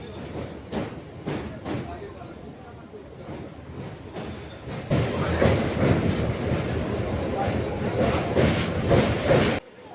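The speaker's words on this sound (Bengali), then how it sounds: "দামোদর নদীর উপর থেকে আমাদের ট্রেনটা চলে যাচ্ছে" Heard from on board, a train crosses a bridge over the Damodar river with rhythmic clickety-clack that grows louder and denser midway, a continuous rumble filling the ride.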